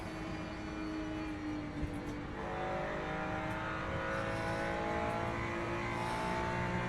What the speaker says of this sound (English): That was a hypercar